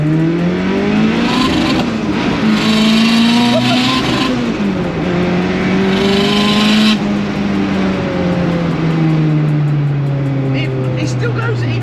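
A 500bhp Mk2 Ford Escort Cosworth with a wastegate problem is driven hard, its engine droning loud and close through sweeping revs with gear changes, while people talk over it.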